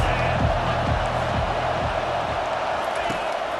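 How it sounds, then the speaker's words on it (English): A stadium crowd in EA Sports College Football 25 roars as a steady, dense wash of noise, with a commentator talking over it and faint thumping beats underneath. "This crowd trying to make life miserable for this offense."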